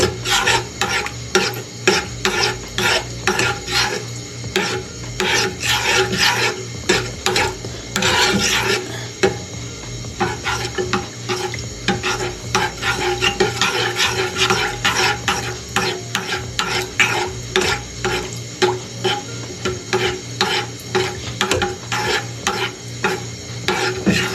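A vegetable sauce cooking in a pan while being stirred, with continuous close scraping and rasping strokes in a brisk, uneven rhythm over a low bubbling sizzle, no voices.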